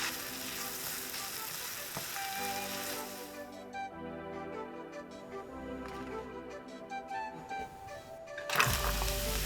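Zucchini frying in sesame oil in a home kitchen pan gives a steady broadband sizzle, then drops to a softer crackle under a faint musical tone before a sharp clatter near the end.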